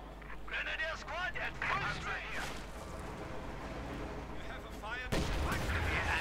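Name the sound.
howitzer artillery fire in video game Company of Heroes 2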